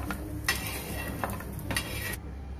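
Masala roasts in a pan with a quiet, steady sizzle, and a spoon scrapes and stirs it in three distinct strokes. The sound is faint and close, with no talking.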